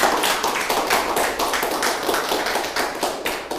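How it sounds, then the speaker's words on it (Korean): Audience at a lecture on sleep and mood health clapping together, a steady dense patter of many hands lasting throughout without talk. "박수 한번 안 쳐주십니까?"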